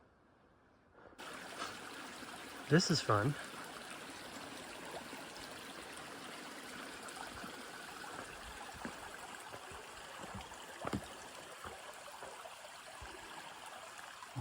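A stream runs steadily near a backcountry campsite in Olympic National Park, a soft continuous flow of water under brief speech and a few small knocks.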